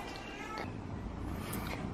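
A scared, flea-ridden female cat huddled on a blanket gives a faint meow, heard briefly against a steady background hiss.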